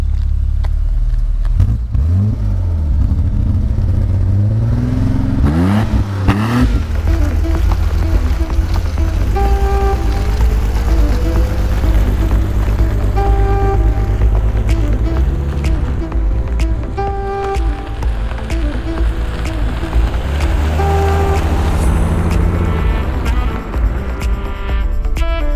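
A BMW 850i V12 engine starts and runs, a loud steady mechanical drone with rising and falling revs and faint talk underneath.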